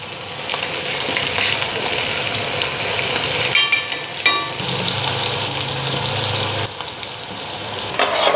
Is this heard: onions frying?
yes